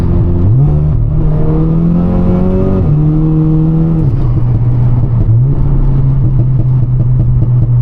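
An Audi S3 engine in dynamic mode revs up and down repeatedly, a loud close rumble rising in pitch then dropping back to idle, with no voices.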